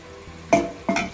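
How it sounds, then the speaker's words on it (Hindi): Onions frying in hot oil for chicken karahi, heard as two sharp bursts of sizzling and stirring about half a second apart over a quiet low background. "थोड़ा तेल गर्म होने के बाद प्याज डाल के लाल करूँगा उसको मैं"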